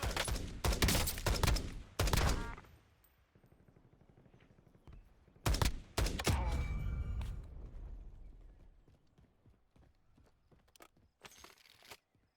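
Incoming gunfire in Call of Duty Warzone comes as several loud, rapid bursts separated by quieter gaps, with lingering rumble and echo trailing after each volley.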